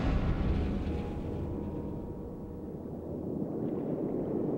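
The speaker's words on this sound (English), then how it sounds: "Suddenly, an explosion rocks the entire craft." A deep, rumbling underwater boom shakes a bathyscaphe deep in an ocean trench, a heavy low roar that rolls on and fades slowly, with no voices.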